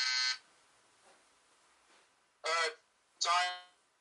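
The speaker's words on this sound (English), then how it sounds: "Buzzer went off, Rodney." Game-show timer buzzer sounding three times: a short first burst, then two loud, harsh buzzes after a pause of near silence, the last one longest.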